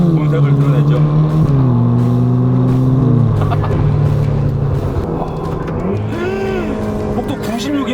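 Ferrari Roma engine in manual mode with the manettino in sport or race, revving hard on a highway after a paddle shift, the pitch rising and stepping through gear changes, loud from inside the cabin.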